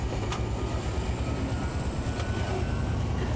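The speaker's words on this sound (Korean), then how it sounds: "봉화에서 기차는 60km 정도의 속도로 천천히 달립니다." A train runs slowly, about 60 km/h, through the mountains of Bonghwa, producing a continuous loud rumbling roar with steady rattling wheel noise and no pauses.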